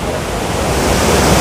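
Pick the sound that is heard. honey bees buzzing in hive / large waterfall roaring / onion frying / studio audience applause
large waterfall roaring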